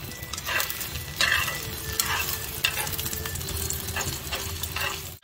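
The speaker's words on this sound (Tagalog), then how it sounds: "Cooking ako ng scrambled egg." Scrambled eggs sizzling steadily in a home frying pan while a utensil stirs and scrapes through them in repeated strokes, close and fairly loud, with no talk.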